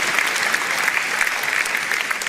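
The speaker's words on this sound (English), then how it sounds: "Round of applause for Linda." A crowd at a Reform UK rally in Sunderland applauds, dense, loud, steady clapping throughout the short stretch with no speech over it.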